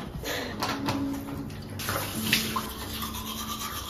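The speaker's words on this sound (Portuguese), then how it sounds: "Vou usar esse sabonete aqui pra lavar o rosto, que já tá nos últimos dias." Running water from a tap while a face is washed with a nearly finished bar of soap, a steady splashing wash with intermittent bursts, close by with no talking.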